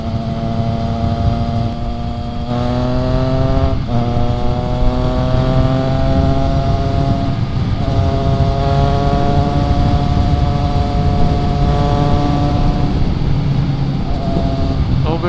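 A Triumph Trident 660 three-cylinder motorcycle engine revs up repeatedly while overtaking in traffic, with loud, close engine tones that climb in pitch through each gear, separated by brief shifts, under steady wind rush.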